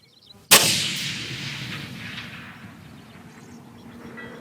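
A single sharp carbine rifle shot on a long range, a loud crack followed by a long rolling echo that fades slowly into quiet outdoor ambience.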